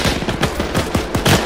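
British weapons fire in Arma 3 during a Gold Beach landing, a fast rattling run of close, loud shots in steady rhythm across the whole moment.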